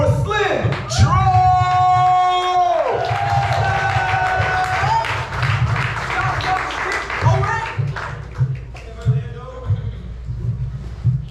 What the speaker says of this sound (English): And please clap it up for Slim Troll.